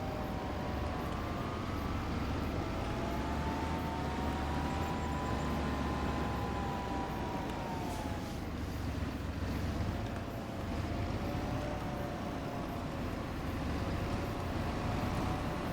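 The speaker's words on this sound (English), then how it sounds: "it definitely is a great little tractor for booting around the property like this" Small tractor driving around a farm property in Farming Simulator: a continuous engine drone with a gently wavering pitch, steady and moderately quiet throughout, with no voices.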